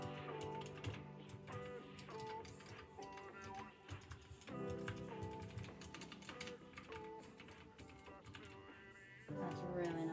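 Someone types on a GK61 60% mechanical keyboard. Its keys click in quick, irregular bursts under a faint background of other sounds.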